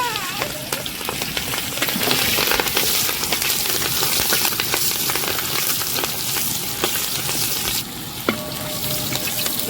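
Ginger, garlic and green chillies fry in hot oil for rainbow chicken, giving a loud, steady crackling sizzle broken by occasional clinks of stirring.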